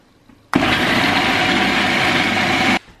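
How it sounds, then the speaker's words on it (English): A food processor grinds falafel ingredients in a single loud, steady motor roar lasting a little over two seconds, starting and stopping abruptly, close by with no talk. "We put everything in the food processor and we go ahead and grind it."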